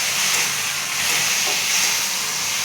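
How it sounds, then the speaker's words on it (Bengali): Ginger paste sizzles in a pan while being stirred, for a light fish curry with pointed gourd and potato; a loud, steady hiss runs the whole time with no voices. "এইবারে এই আদা পেস্টটা দিয়ে দেবো, দিয়ে আবার নাড়তে থাকলাম।"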